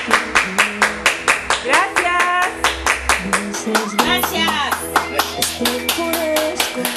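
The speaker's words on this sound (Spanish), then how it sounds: "Honduras aplaude" Rhythmic group clapping in Honduras, about two claps a second in a steady beat, mixed with music and voices.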